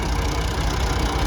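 A 1984 Ford 3610 tractor, 49 hp, hauling a trolley loaded with about 45 tonnes of sugarcane up a bridge, its diesel engine a loud, steady low rumble throughout.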